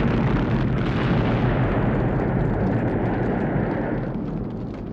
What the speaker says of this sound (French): va commencer avec une explosion impressionnante dans les bois